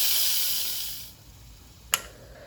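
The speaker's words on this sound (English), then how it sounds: "press down, press the button, let all that steam out" Steam hisses loudly from an Instant Pot's quick release valve for about a second and then cuts off, followed by quiet and one sharp click.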